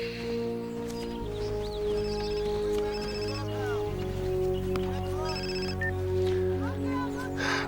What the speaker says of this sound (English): Your phone.